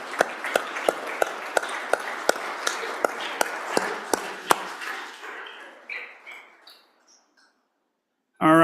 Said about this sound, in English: So let's give all those kids a round of applause.